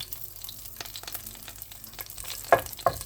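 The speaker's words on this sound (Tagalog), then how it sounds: "At dito na natin gasahin yung bawang." Garlic sizzles and fries in a pan with a steady crackle, close up, as a utensil stirs and scrapes it with a couple of sharper clinks near the end; no talking.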